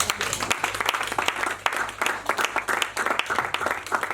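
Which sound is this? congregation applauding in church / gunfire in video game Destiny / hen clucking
congregation applauding in church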